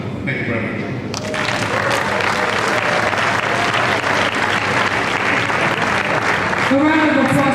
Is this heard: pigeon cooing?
no